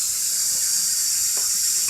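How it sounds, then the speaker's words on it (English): Water runs steadily from a kitchen tap into a cup, a constant loud hiss that carries on without a break and has no voices over it. "Make sure you turn your water off."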